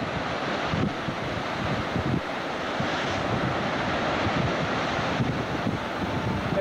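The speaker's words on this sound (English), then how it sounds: "Very angry surf rolling up underneath Bonsai Cliff." Heavy, rough ocean surf rolls and crashes steadily against the rocks beneath Banzai Cliff, a continuous loud wash of breaking waves mixed with buffeting wind noise on the microphone and no voices.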